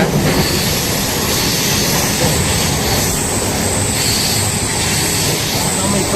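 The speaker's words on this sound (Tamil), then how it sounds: "ஃப்ரெண்ட்ஸ் பாருங்கள் நம்ம பெட்டி எப்படி ஆடுது பாருங்கள் ஜாயிண்டிங்கில்" Loud, steady rumble and rattle of a Kannur Express train carriage swaying over rail joints between Yesvantpur and Kannur, with a constant roar from inside the moving coach.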